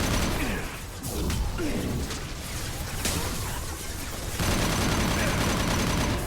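Sustained gunfire from Mass Effect 2, with fast, dense automatic bursts and whooshing effects over a steady game soundscape. The firing holds loud throughout, and a voice speaks briefly over it.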